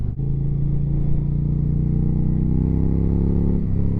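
A 2025 Indian Challenger motorcycle engine drones steadily and close while downshifting, with a brief dip and shift in pitch near the end; no one speaks.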